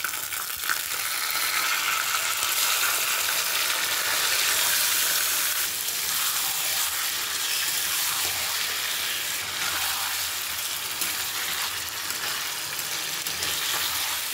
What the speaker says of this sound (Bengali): এখন আমি খাসির মাংসগুলোকে কষিয়ে নেব